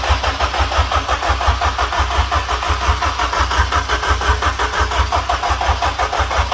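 A Honda K20 engine with individual throttle bodies cranks in a steady, rapid rhythmic chug without catching, loud and close, continuing throughout.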